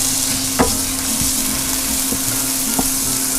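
Capers and minced garlic frying with onions in a pan give a steady, even sizzle throughout, with a couple of faint clicks of a utensil against the pan.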